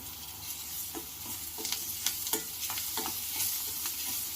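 Onions frying in oil with curry leaves and chili for chicken palak, a steady close sizzle broken by soft scraping stirs and a few sharper pops, with no talk.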